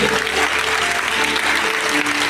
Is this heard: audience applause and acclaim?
yes